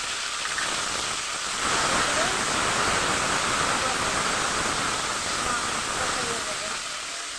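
Spice paste and tomato hitting a hot pan while cooking a fish curry, giving a steady, dense sizzle that holds loud and even throughout.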